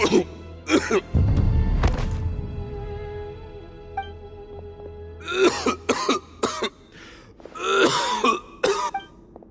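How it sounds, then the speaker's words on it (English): A man in the video game Genshin Impact coughs and clears his throat in a rough, rasping run of bursts, with dialogue and a low rumble mixed in around them. "Why is he coughing so much?"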